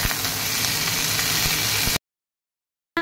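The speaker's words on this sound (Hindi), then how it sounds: "और अब मैंने डाल दिया आलू भी और अब इसको भी फ्राई कर लेंगे।" Potato pieces sizzle and fry steadily in a hot pan at home, a loud continuous crackle for about two seconds that cuts to silence and then briefly returns.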